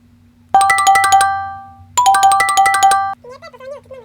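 A phone ringtone for an incoming call: two loud bursts of a bright repeating electronic melody, each about a second and a half long, separated by a short pause, then a softer warbling tone at the end.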